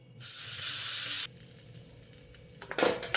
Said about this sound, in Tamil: மறுபடியும் எண்ணெய் ஊற்றவும்